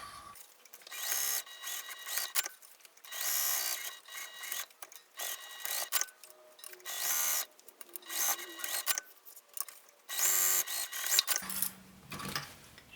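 A home sewing machine stitches a fabric pouch side to side, with rapid mechanical bursts broken by short pauses. There is no talking.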